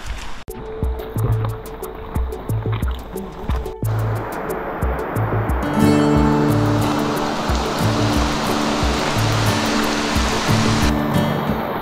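A river rushes steadily past waterfalls in Signapan Valley, Palawan, its broad roar building and growing fuller partway through, accompanied by intermittent clicks and low thumps nearby.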